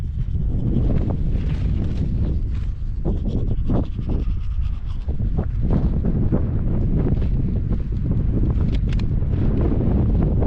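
Strong wind buffets the microphone while wild camping on the Cumbria Way, a loud, continuous roar with gusting surges and rustling throughout, with no voices.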